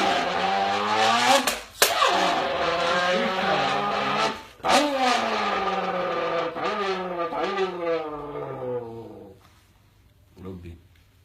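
A voice imitates Lamborghini and Mustang sports car engines, producing loud revving roars with rising and falling pitch sweeps, two sharp bursts, and a fade toward the end.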